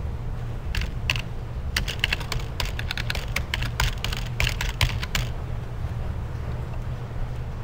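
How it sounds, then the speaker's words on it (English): Typing on a computer keyboard, with rapid irregular clicks and taps that cluster in the middle stretch before stopping, heard over a steady low hum. "In the search query box, type what you want."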